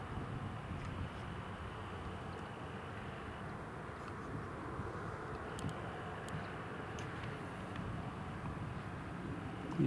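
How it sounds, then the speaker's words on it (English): A Ryanair airliner comes in to land at Newcastle International Airport, a steady broadband engine roar with some wind buffeting, holding at an even, moderate level throughout with no voices. "Here's the Ryanair just coming in."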